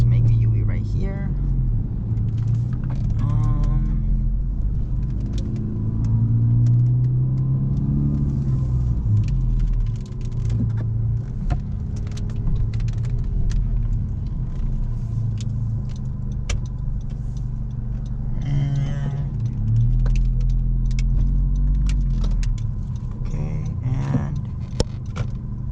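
A 2019 Honda Civic Sport with K20C2 engine and CVT accelerates 0-60 using paddle shifters, heard from inside as a loud steady cabin rumble with engine drone rising and stepping, while people talk throughout.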